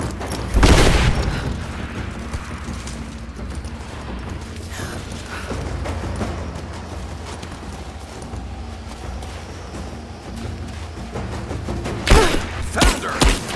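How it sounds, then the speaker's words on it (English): A grenade explosion in Rise of the Tomb Raider on PS4 Pro: a loud, close boom early on, a second burst near the end, and steady rumbling game noise in between. "Grenade out!"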